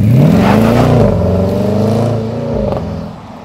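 A Jaguar F-Pace SVR V8 SUV with 550 horsepower revs up loudly nearby, its deep engine note sweeping upward then settling into a sustained rumble that fades slightly at the end.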